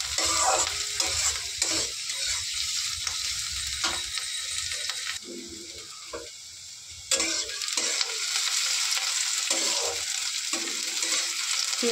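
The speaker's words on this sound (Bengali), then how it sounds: "এবার পেঁয়াজটাকে ভালো করে ভেজে নেব।" Chopped onion sizzles steadily as it fries in a pan, with repeated scraping stir strokes of a spatula cutting through the hiss, close and continuous, no voices.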